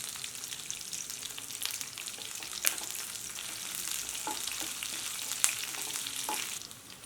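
Cumin seeds sizzle and crackle in hot oil alongside onion and garlic for a spicy tomato chutney, a steady close frying hiss with a few sharp pops and stirring scrapes.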